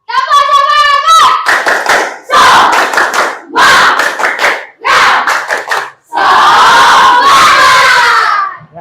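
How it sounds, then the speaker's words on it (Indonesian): A classroom group of children claps a rhythmic spirit clap in loud bursts separated by short pauses, with shouted chanting mixed in. "Tepuk semangat."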